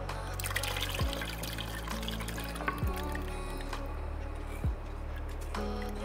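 Tender coconut water pours steadily into a chilled pudding mixture, a continuous close liquid trickle and splash with a few soft knocks, no talking.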